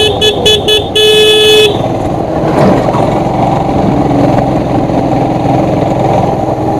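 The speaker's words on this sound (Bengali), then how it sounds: "5 গিয়ারে দিলাম গাড়িটা।" A car engine runs steadily in fifth gear on a road trip toward Gangtok, a loud continuous drone with a vehicle horn tooting several times near the start.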